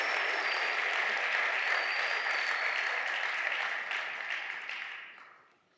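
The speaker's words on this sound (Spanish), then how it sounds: "Dar un aplauso a Dios por su palabra." A church congregation applauds after a sermon reading, broad, even clapping that holds steady for several seconds and then fades away to quiet.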